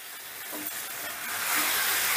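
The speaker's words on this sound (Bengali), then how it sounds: "এবার এটাকেও আমি মিনিট 2 কষিয়ে নিচ্ছি" Tomato gravy for a vegetarian pumpkin and lentil curry sizzles steadily in a pan while being stirred, a broad bright hiss that swells louder toward the end, with no voices.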